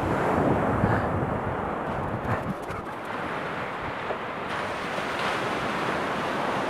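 Surf rolls onto Lawrencetown Beach in mid-February, a continuous loud roar of breaking waves mixed with heavy wind buffeting the microphone.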